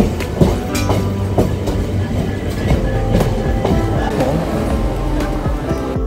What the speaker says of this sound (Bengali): দাসনগর আর রামরাজাতলা পার করে এবার ট্রেন চলেছে সাঁতরাগাছি